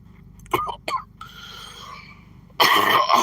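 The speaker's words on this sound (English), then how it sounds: "I don't know why I'm coughing this much." A few short, sharp coughs close to the mic, two bursts early on, then a louder rough burst near the end.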